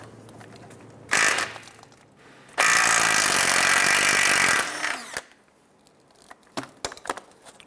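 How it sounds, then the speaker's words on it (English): An impact wrench or ratchet spins a 22mm socket to remove a nut on a 1995-2001 Ford Explorer front CV axle, with a short burst, then a longer loud whir, followed by metallic clinks and taps. "Using our 22mm socket, we're going to go ahead and remove this nut."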